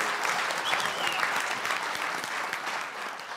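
A congregation claps hands during a spoken message, a dense, lively burst of applause with scattered louder claps, murmured voices faintly mixed in.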